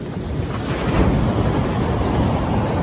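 Sea waves and wind at RK Beach in Vizag, a steady loud roar of surf with wind buffeting the microphone throughout, no voices.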